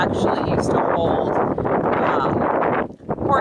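Wind gusts across a hilltop, buffeting the microphone with a loud, rough rumble throughout, while a person speaks over it.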